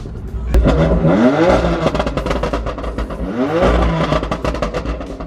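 A BMW M4 fitted with a titanium exhaust revs hard and loud while driving, its engine pitch climbing twice through the gears amid crackling exhaust pops and no talk.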